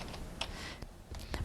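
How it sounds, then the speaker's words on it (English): Keystrokes on a computer keyboard, a few quiet close clicks and taps over a short stretch, with no voices. "Press my enter key on my keyboard"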